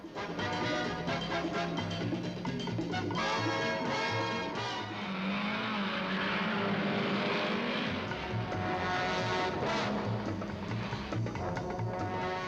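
Ford Cortina Lotus racing cars at Silverstone, several engines roaring and revving in turn as they pass, loud and continuous with rising and falling pitch.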